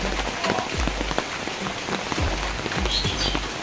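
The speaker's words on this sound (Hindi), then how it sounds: "बहुत दूर से बारिश हो रहा है" Steady patter of rain falling on a surface, with scattered louder drops close by and no talking.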